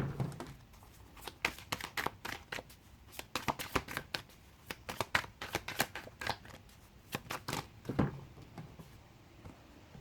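Tarot cards being shuffled by hand, a quiet close rapid series of crisp riffling snaps and slides in uneven bursts across the whole clip.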